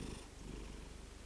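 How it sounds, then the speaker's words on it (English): A cat purring close up, a soft, steady, rhythmic low rumble that continues evenly throughout with nothing else audible. "that really was a cat and not me making purring sounds"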